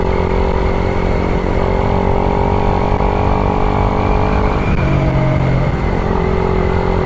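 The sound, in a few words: Raider 150fi motorcycle riding at night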